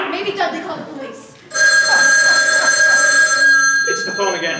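An onstage telephone in a high school theatre production rings loudly and steadily for several seconds with a bright electronic trill, following actors' voices and shouts on stage.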